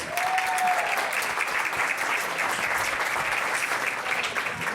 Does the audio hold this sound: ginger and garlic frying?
no